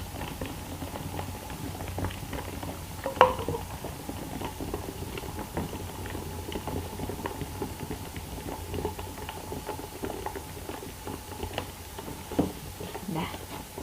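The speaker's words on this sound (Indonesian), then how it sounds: "Ini benar-benar mendidih," Water boils inside a Crown CR198 baby bottle sterilizer, a soft steady bubbling and pattering that runs the whole time at low volume, with a couple of sharper ticks along the way.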